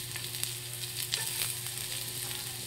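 Onions sizzle in a small amount of oil in a pan, a steady close hiss with faint crackles and occasional soft stirring taps throughout.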